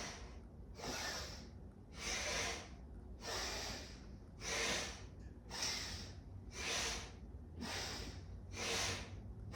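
Slow yoga breathing, about eight steady cycles of audible inhales and exhales, close and soft, rising and falling in an even rhythm with no talk.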